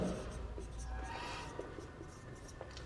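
Pen or marker writing out a physics question on electric flux, a run of soft scratchy strokes that stays quiet and close over a low hum.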